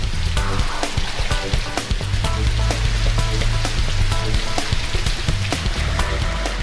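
A rain machine pours artificial rainfall, a dense continuous patter of drops with scattered sharper ticks, steady and loud with no voices.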